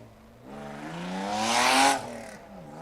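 A Mazda Miata race car passes on a track during a test-and-tune day. Its engine drones and rises in pitch to a loud peak, then fades as the car moves away, with no talking.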